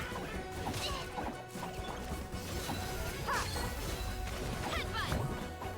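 Repeated smashing hits and crashes from combat in the Genshin Impact game, dense and loud over a busy layer of effects and music throughout, with a few sharp swishy accents standing out near the end.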